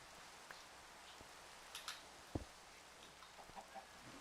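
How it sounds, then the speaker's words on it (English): A Minecraft chicken clucks in short, sparse bursts against quiet game ambience, with a few faint clicks scattered between the calls. "I can hear the chicken."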